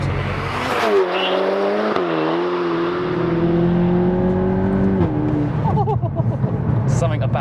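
Volkswagen MK8 Golf GTI with a DSG gearbox and a loud exhaust, tuned to 450 bhp: a sustained engine drone that steps at quick gear shifts, with people talking over it throughout.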